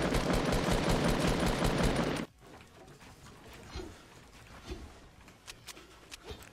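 Rifle gunfire from the Fortnite video game: a loud, rapid burst of about seven or eight shots over the first two seconds, then sparse fainter sounds after the burst.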